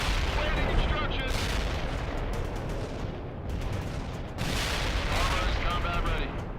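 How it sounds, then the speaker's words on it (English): Dense, continuous rumbling gunfire and explosion noise from the World in Conflict video game, heavy throughout with a short dip in the middle, as a missile is fired during battle. "Fire that missile! Hurry up! Missile fire!"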